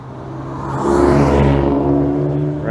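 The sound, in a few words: Renault Clio driving at Goodwood Motor Circuit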